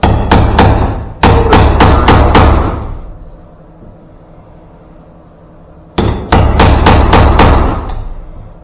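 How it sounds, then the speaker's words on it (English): Hammer striking a chisel into wood to cut a hinge recess, heard as two loud, close bursts of rapid, sharp blows separated by a quiet pause. "So I'm just going to take a chisel, put it on my line here."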